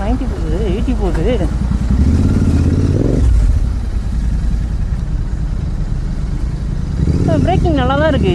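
A GT motorcycle engine hums and revs steadily during a ride, rising into a louder surge midway, with someone talking over it at the start and end.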